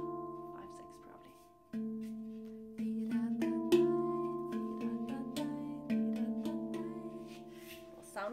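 Resonant metallic tones of a handpan ring out and overlap, with struck notes building into a slow rhythmic pattern and sustained shimmering decay.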